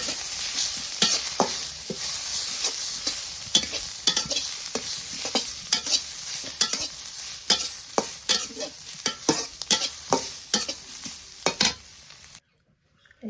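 Radish greens fry in a pan with a tempering of chopped onion: a close sizzle broken by frequent sharp scrapes and clacks of stirring, ending abruptly in near silence.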